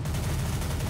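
Gunshots in the CS:GO video game, a dense, loud burst of rapid fire filling a brief moment.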